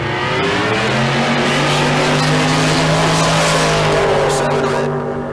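A dragster and a Firebird drag racing at Tucson Dragway, loud roaring engines at full throttle sustained for several seconds, rising in pitch, with tire noise and no clear talk over it.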